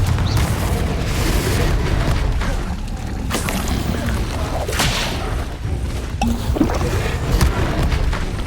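Confringo blasting curse explosions in Hogwarts Legacy, a string of booming magical blasts and crashes over continuous loud game combat rumble, with no clear pauses between impacts.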